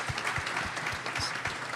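Applause from the audience at a live podcast recording: steady, dense clapping from a crowd filling the space, with faint cheering mixed in throughout the short burst.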